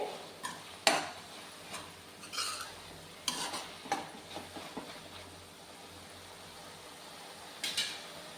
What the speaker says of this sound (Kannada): ಮೆಂತ್ಯ ಸೊಪ್ಪು ಇನ್ನು ಸ್ವಲ್ಪ ಫ್ರೈ ಮಾಡ್ಕೊಳ್ಳೋಣ